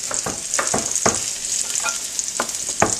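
Scallions sautéing in a hot pan make a bright, steady sizzle, broken by repeated short scraping stirs at a quick, uneven rhythm, close and loud.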